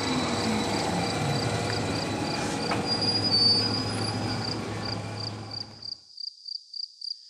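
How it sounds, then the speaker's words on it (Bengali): A train pulls into Bankura station with a steady, loud rumble and a squeal of wheels on the rails, and rhythmic clacking continues as the noise cuts off near the end. "ট্রেন লেট ছিল না, ঠিক সময়েই বাঁকুড়া স্টেশনে ঢুকলো"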